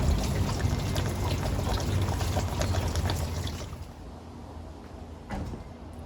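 Coolant water drains out of a Chevy SBC 350 engine, a steady gushing pour that fades to a thinner trickle partway through, with a brief knock near the end.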